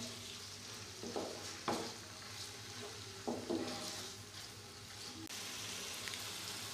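About 300 grams of small chicken pieces sizzle steadily in a pan, with a few louder stirring scrapes and clatters rising above the constant frying hiss and no talking.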